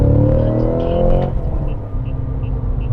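Cadillac CT5-V Blackwing engine climbs in a loud, close rev through the gears, then drops off after a rev-matched shift into a lower steady drone with brief blips.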